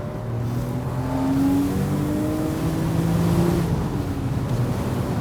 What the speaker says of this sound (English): It's very nice to be able to rev out one of these cars on camera